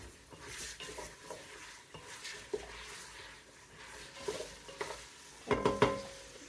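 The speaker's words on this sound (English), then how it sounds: "We'll let them sweat down for a few minutes. Just give them a stir." Onions sweating in a little oil in a pan with pork sausage, a soft, quiet sizzle under light stirring, with a few utensil clinks and scrapes toward the end.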